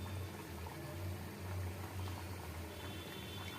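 Kapne frying in hot oil, a continuous low bubbling and sizzling, faint and steady, with no voices.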